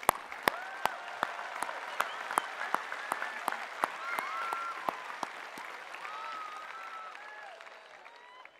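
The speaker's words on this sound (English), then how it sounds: "Please recognize the recipients of those degrees with our hearty congratulations and applause." Applause at a university undergraduate commencement ceremony as degree recipients are recognized, with sharp claps spread through a large hall that gradually thin and fade toward the end.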